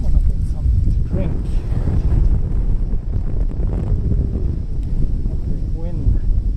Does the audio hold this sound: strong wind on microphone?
yes